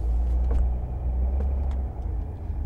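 A 2009 Mercedes E320 Bluetec drives along with a steady low engine rumble inside the cabin and faint clicks over it; the shift is not clearly marked.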